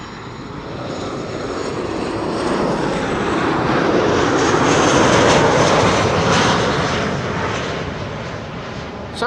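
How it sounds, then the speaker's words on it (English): A Transavia airliner arriving at Amsterdam Schiphol Airport on a sunny day, its engine roar swelling to a loud broad rush as it passes overhead and then slowly fading, with no talk over it. "Transavia flight 1616 is arriving from Samos"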